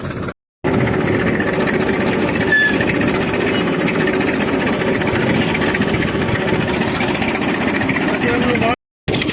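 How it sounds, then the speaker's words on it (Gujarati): A tractor engine idles on a farm, a steady, continuous mid-pitched chug that holds an even drone throughout. "બીજા ટ્રેક્ટર આવી ગયો છે"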